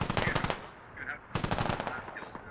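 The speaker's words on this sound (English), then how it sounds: "Everybody's shooting." Gunfire in a military shooter video game crackles in rapid automatic bursts, loud and close, with a short pause between two volleys and fainter shots continuing after.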